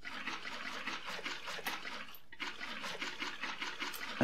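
Water poured from a bucket in Minecraft gushes in a steady rushing wash, fairly quiet and close, breaking off briefly midway before flowing again, with no talk.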